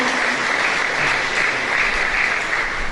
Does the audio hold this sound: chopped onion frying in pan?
no